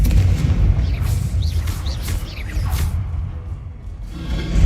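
Spells are cast in Hogwarts Legacy, producing rapid, loud whooshing blasts and booming impacts in quick succession, then fading into a quieter rumble before another hit.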